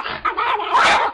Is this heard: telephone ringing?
no